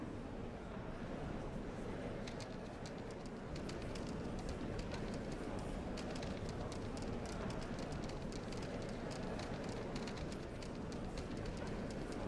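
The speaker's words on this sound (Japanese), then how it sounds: "そうか、これが列車だったのか。" A train in the Demon Slayer video game rumbles along in a continuous noisy roar with fine rhythmic clatter, steady and moderately faint throughout.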